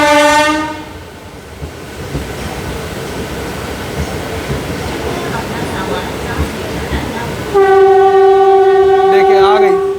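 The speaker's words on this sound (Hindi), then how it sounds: "यहाँ पे मेरे को ग्रैंड ट्रंक एक्सप्रेस की हॉकिंग की आवाज़ आ रही है" The Grand Trunk Express, an Indian Railways train, sounds its horn. A short honk is followed by a rumbling, clattering passing train, then a long, loud, sustained horn blast at the end.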